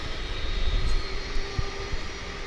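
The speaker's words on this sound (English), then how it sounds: "Here, however, is the UPS 757, which is headed out to Ontario," A UPS Boeing 757 departs DFW International Airport, bound for Ontario, California. Its broad, steady jet roar stays loud and even, with a low rumble swelling briefly in the middle.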